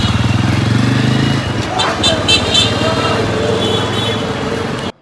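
A new Runner Dayang Bullet 135cc motorcycle modified into a cafe racer idles with a low throb, then revs and pulls away, its pitch rising as it goes, with voices talking over it.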